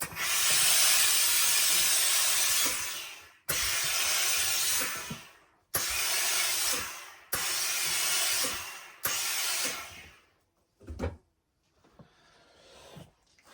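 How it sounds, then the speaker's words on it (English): A steam iron releases loud hissing bursts of steam onto the brim of a lightweight wool felt hat, about five long blasts separated by short pauses, then a couple of brief puffs. "put a bit of steam on the actual brim and just give it a bit of an iron"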